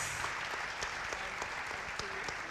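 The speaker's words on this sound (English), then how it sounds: "A round of applause for our audience." Audience applause at the close of a panel discussion, steady dense clapping from a crowd throughout with a few sharper individual claps standing out, no talk over it.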